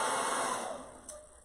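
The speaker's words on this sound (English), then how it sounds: "I'm going to dry it even faster with my hair dryer" A hair dryer blows steadily up close, drying fresh paint on a door hanger, a loud continuous whooshing whine that eases slightly toward the end.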